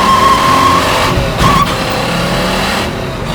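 A TASCA Ford Boss 302 Mustang roasting its tires, a loud close roar of the V8 with a high squeal of rubber in two short bursts, then the engine settling into a steady rumble.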